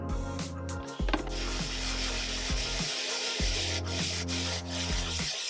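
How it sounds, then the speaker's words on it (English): A Dellorto PHBG carburetor part rubbed flat on sandpaper over granite, heard as repeated back-and-forth scraping strokes, each with a rising and falling grind, close and steady. "There are some high sides here, so I'm going to flatten it out on a piece of granite and some sandpaper."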